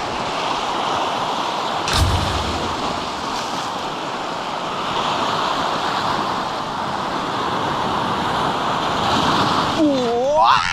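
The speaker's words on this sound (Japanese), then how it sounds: "ちょっと爆風すぎたね" Strong wind at a fishing harbour, a steady loud rushing roar with buffeting against the microphone throughout and a brief thump near the start.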